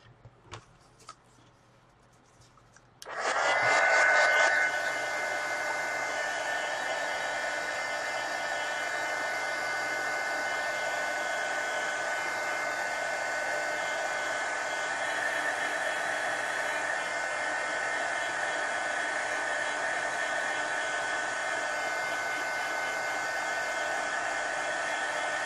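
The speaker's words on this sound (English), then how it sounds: "So I'm going to hit this with a heat gun." A heat gun blasts steadily at a watercolor base coat, switching on after a few seconds of quiet handling and then roaring as a loud, constant airy whoosh that carries on alone to the end.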